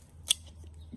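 A cigar cutter clipping the tip of a cigar makes one quick, crisp snip, close up in a quiet room.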